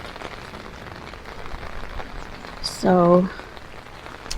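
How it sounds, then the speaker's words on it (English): Steady rain falls outside during a garden walkthrough, a continuous soft hiss throughout, with a brief tonal burst near the end and a voice speaking briefly over it. "I think this might be the fourth or fifth day of rain."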